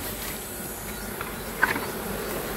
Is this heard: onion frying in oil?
no